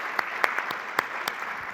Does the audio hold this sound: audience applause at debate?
yes